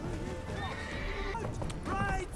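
A horse in The Witcher 3: The Wild Hunt neighs in a clear, drawn-out whinny, followed by a second shorter whinny near the end, over light game ambience.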